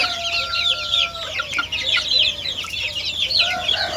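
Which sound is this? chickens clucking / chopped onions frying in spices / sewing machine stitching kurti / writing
chickens clucking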